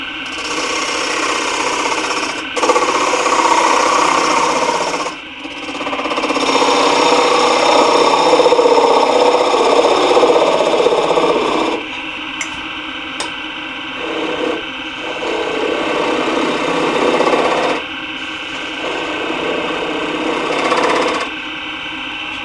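Wood turning on a lathe with a 3/8 hollow gouge, a steady whirring, scraping hum with sustained tonal bands that stops and restarts several times, loud and close with no talking.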